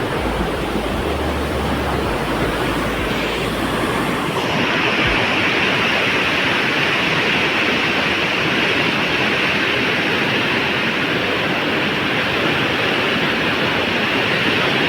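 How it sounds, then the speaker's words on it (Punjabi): Fast water of the Sutlej River in Punjab roars in a dense, constant rush, loud and close, like a heavy torrent with no pauses. "ਪਾਣੀ ਦਾ ਤੇਜ਼ ਵਹਾਅ ਵੇਖ ਲਓ ਜੀ"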